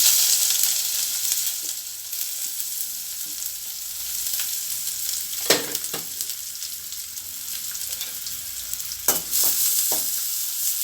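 Onions sauté over medium heat in a pan for hotel-style vadacurry, with a continuous moderate sizzle and a few sharp scrapes and knocks from stirring.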